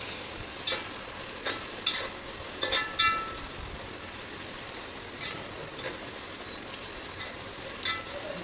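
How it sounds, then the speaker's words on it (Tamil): Intermittent scraping clicks of a spoon stirring tomatoes frying in a pan over a steady soft frying hiss, with a few sharper taps. "போட்டுட்டு அதையும் நல்லா கிண்டி விட்டுறணும்"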